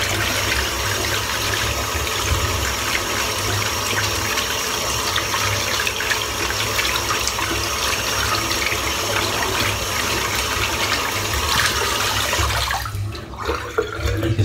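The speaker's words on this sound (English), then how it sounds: "That's the brush done. Just rinse the soap off now." Shaving brush rinsed of soap under running water, a loud steady gush from a tap lasting many seconds, close and continuous before easing off at the end.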